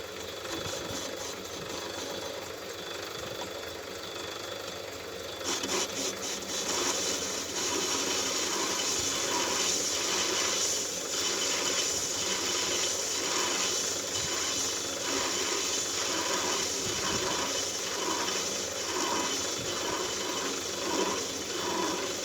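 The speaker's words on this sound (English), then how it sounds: "we're just going to face this boss off here" A lathe faces the boss of a Stuart S50 flywheel, a continuous mechanical whir and hum with a rhythmic ticking that grows brighter and louder partway through as the cut begins.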